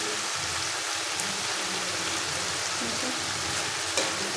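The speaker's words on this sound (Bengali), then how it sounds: "ভালো করে নাড়িয়ে একটু ভাজা ভাজা করে নিতে হবে।" Banana flower and potatoes fry in a pan with a dense, steady sizzle while being stirred, close and even throughout.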